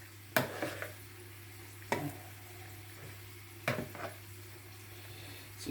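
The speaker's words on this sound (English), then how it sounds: "Then, like a salad, you toss it." Spaghetti is tossed with butter and Parmesan in a bowl, giving quiet, soft clinks and brief scraping strokes at a slow, irregular rhythm, with a faint background hum.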